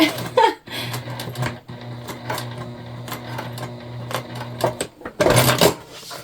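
A sewing machine stitching a tote bag fabric panel, running in a few bursts of rapid mechanical clatter with short pauses between them, close and fairly loud.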